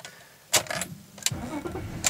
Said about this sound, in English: So we're just starting the engine there.